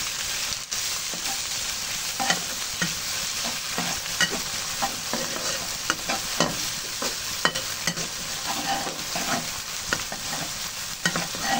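Steady frying sizzle from a pan of garlic and lemongrass being sautéed, with frequent scraping and stirring clicks throughout, fairly close and continuous.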